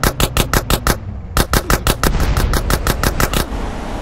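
Rapid bursts of video game gunfire from GTA San Andreas, loud and close, with rhythmic volleys of shots repeating through the clip and no voices over them.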